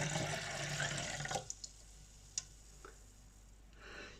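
Cleaning solution is poured into a Tassimo coffee machine jug, a steady watery pour and trickle filling the first second and a half before stopping, followed by a few faint drips and clicks in a quiet room.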